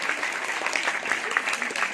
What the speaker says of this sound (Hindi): इनका तालियों के साथ जोर का हौसला बढ़ा।